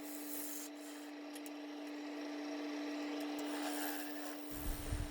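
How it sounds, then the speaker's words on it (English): A skew chisel scrapes steadily and softly across the bottom of a spinning maple log on a woodturning lathe, with a constant motor hum underneath and no talking. "Using the skew chisel to flatten"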